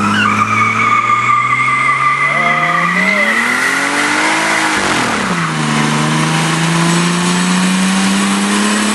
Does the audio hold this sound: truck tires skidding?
yes